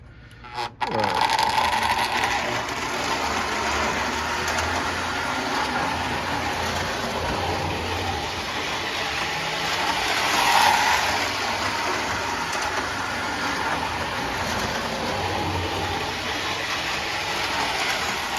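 A Lionel 1055 Texas Special model train locomotive, forward-running only, runs with a steady motor whir and track rumble, continuous and fairly loud, with a brief louder swell midway.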